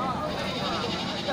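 A goat bleats close by at a livestock sale ahead of a religious holiday, with a crowd talking steadily underneath throughout the short moment.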